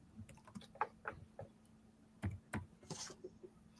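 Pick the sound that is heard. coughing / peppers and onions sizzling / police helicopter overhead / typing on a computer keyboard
typing on a computer keyboard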